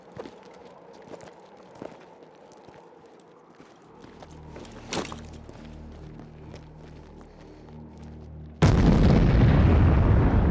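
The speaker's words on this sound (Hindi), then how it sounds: "ये लोग आए दिन नए बंकर बनाते रहते हैं और बंकर बनाने के लिए ही पत्थर एक्सप्लोड कर रहे हैं" Rock blasting for bunker construction near a border: scattered distant thuds and pops, a sharp bang, a low rumble building after four seconds, then a sudden sustained loud roar of the blast near the end.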